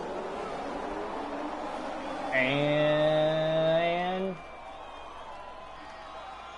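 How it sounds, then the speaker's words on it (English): Race car engines in a Formula-style racing video game at the Austrian Grand Prix start rise in a loud, buzzing, high-pitched whine for about two seconds, then drop away, with a voice talking around it. "I'm going to wait till I hear the engines."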